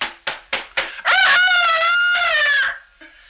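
A human voice imitates a rooster: four short clucking calls, then one long, loud, drawn-out cock-a-doodle-doo crow that fades at the end.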